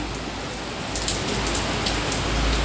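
Heavy rain pouring steadily, a dense constant hiss of drops hitting surfaces with no voices.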